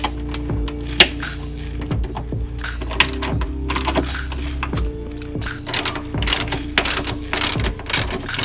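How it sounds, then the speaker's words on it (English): A ratchet wrench loosening suspension bolts to remove a coilover clicks in quick rapid bursts, close and loud, with short pauses between strokes and no talking. "we're gonna start with taking the coilover out"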